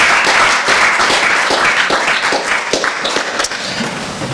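An audience at a clinical research awards ceremony applauds a prize winner with dense, loud, continuous clapping, many hands overlapping into a steady roar that thins slightly toward the end.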